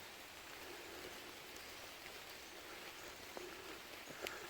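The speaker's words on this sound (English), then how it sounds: "Yeah, it started raining again." Rain falling outdoors by a road in Vermont makes a steady, dense hiss of drops, even and broadband throughout, with a few faint isolated patters standing out, and no voices.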